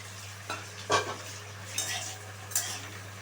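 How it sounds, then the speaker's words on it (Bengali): Chopped onions and capsicum fry in a pan, a soft steady sizzle broken by several brief scrapes and clinks of a spatula stirring against the metal. "এবার পেঁয়াজ আর ক্যাপসিকামটা একটু ভালো করে ভেজে নিতে হবে।"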